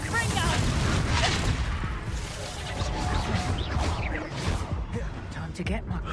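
Fiery Confringo blasting spells explode in Hogwarts Legacy, a rapid string of loud booming bursts and crashes layered over dense, continuous combat noise.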